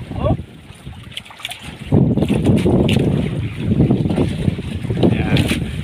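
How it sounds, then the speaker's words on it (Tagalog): Strong wind and choppy waves around a small fishing boat at sea, a steady loud rushing roar with gusts buffeting the microphone, swelling louder after the first couple of seconds. "Grabe yung alon mga brad, nagagalaw-galaw ang mangka."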